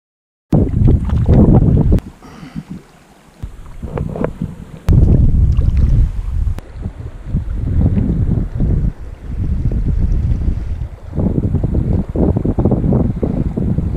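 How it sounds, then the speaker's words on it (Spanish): Strong wind beside a river buffets the microphone, a loud, continuous roaring rumble that surges and eases in gusts, with no voices. "hay mucho viento"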